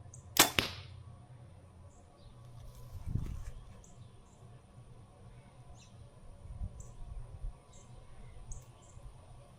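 At the start, an arrow is fired through a chronograph with one sharp, loud snap, followed by a softer thump a few seconds later, then quiet woodland ambience with faint bird calls.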